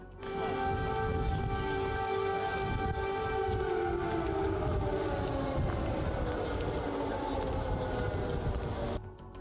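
An air raid alert siren in wartime Kyiv, Ukraine, wails steadily and loudly for several seconds, its tone slowly falling, with a rumbling background.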